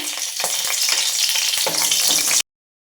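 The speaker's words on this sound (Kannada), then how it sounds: "ಈರುಳ್ಳಿ ಮೆಣಸಿನ್ಕಾಯಿ ಎಲ್ಲ ಫ್ರೈ ಮಾಡ್ಕೋಬೇಕು" Mustard seeds, three dried red chillies and onion fry in about four tablespoons of oil in a heavy-bottomed pan for pumpkin sambar, making a loud, close, hissing sizzle with stirring knocks before cutting off abruptly.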